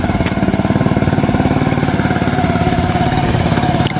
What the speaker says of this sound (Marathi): नवीन माणसाजवळ ट्रॅक्टर दिलाय